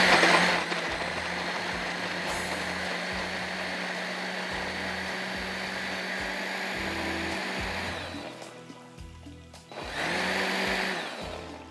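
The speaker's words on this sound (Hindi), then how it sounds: "ये पीस लेते हैं, इसका हम पेस्ट बना लेते हैं" A kitchen blender grinds coriander and spices into a paste for kofta, whirring loudly and steadily in short pulses, then stopping briefly before a final burst; no one talks.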